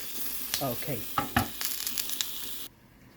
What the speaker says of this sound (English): You see how I toast the garlic?